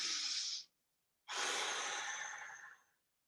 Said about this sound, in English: now if you take a deep breath in with me